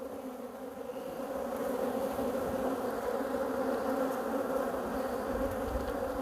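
Honeybees buzzing steadily on a beehive frame from a varroa-infested colony, a dense, continuous close-up hum with no talking.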